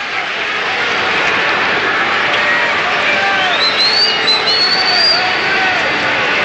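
A baseball stadium crowd cheering loudly and continuously with whistles rising over the roar as a batter steps up, with a broadcaster talking over it.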